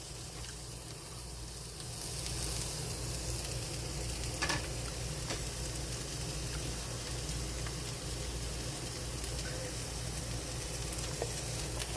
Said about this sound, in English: so that I can dump the onions in, saute the onions, and then cook the ground beef.